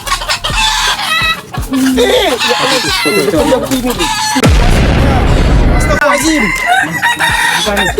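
Chickens cluck and a rooster crows close by, the fowl calls repeating over and over beneath a person's exclamations and speech, with a sudden loud burst of noise partway through.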